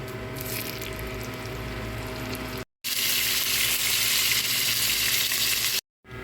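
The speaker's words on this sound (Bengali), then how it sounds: "মাছটা আমি দুই পাশ কড়া করে ভেজে প্লেটে উঠে নিই" Steady, loud sizzling of rohu (rui) fish frying in hot oil until crisp on both sides, a dense crackling hiss that cuts out briefly twice.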